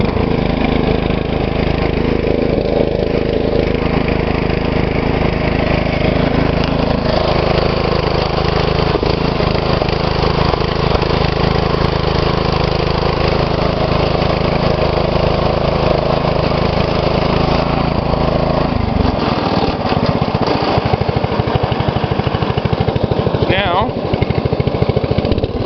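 A 2012 MTD lawn tractor engine runs steadily at full throttle, a loud, continuous mechanical drone with a constant hum, and it drops to a rougher, lower note near the end.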